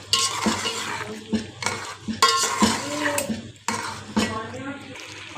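Milk-pack cream being stirred into chicken white karahi in a pot, with a spoon scraping and clanking in uneven bursts over a low simmering sizzle, close and clear.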